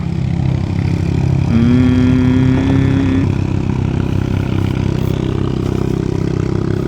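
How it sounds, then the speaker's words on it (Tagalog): Motorcycles on a road below a seaside viewpoint produce a constant, fairly loud engine drone. A brief rising tonal whine passes midway through, and no one speaks. "May mga motor sa baba."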